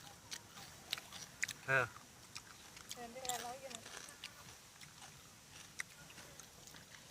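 Someone eats pickled shrimp in soy sauce, with soft wet biting and chewing sounds up close amid quiet background noise, while people talk.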